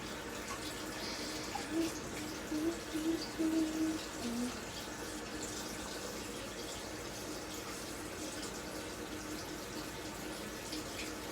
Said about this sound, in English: you can hear me rinsing it with the cold water